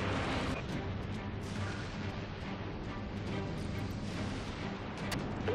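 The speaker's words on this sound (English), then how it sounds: "Firing all broadsides." Broadside cannons roar from a warship in the naval combat game Dreadnought, a dense, sustained barrage of booming blasts that blur into one continuous rumble with no clear gaps.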